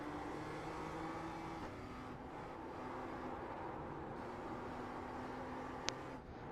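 A race car engine drones in a sim racing game, a steady mid-pitched hum with shifting tonal lines, fairly faint and continuous, with one sharp click near the end.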